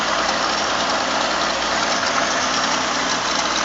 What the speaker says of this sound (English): Let me rev it a little bit.